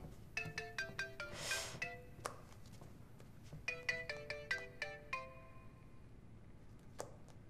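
A melodic electronic phone ringtone plays close by, running through a quick phrase of bright chiming notes, pausing briefly, then repeating the phrase, with no voices over it.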